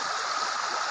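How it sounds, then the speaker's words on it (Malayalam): A small forest stream beside a roadside thicket flows steadily, its continuous rushing and gurgling water filling the scene at close range with no voices. "ഇതാണ് നമ്മുടെ തോട്."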